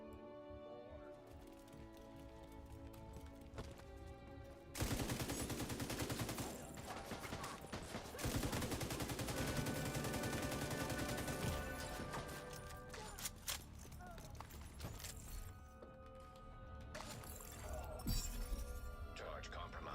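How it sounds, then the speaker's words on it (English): Light machine gun fire in the shooter Division 2, long sustained bursts of rapid automatic shots with clinking shell and impact sounds, starting after a quieter opening and pausing briefly, with a game voice announcing alerts between bursts. "LMG guns are now just so much more powerful"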